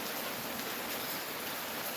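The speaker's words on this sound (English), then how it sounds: "So now I think we are feeling some of the rain that is coming along with it." Rain from Hurricane Melissa falls steadily on a rural homestead, a dense, even hiss of drops with no other sounds, soft and constant throughout.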